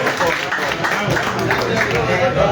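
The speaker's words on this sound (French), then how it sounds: "On l'applaudit encore." Spectators at the opening ceremony of a regional reunion festival clap continuously in a dense, even wash of applause, with voices mixed in over it.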